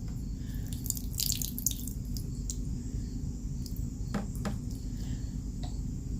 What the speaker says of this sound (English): just let it drain for a minute